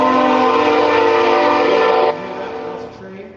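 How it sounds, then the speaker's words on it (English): A train on tracks right beside a workshop sounds a loud, sustained horn over rolling rumble, then the blast cuts off and the noise fades as it passes. "My shop's right next to the train tracks"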